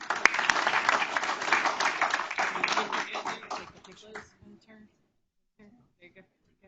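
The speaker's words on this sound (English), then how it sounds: "Let's give our RSS AP scholars who are with us tonight another big round of applause." Audience at a school board meeting applauding, a burst of dense clapping that thins out and fades to a few scattered claps within about four seconds.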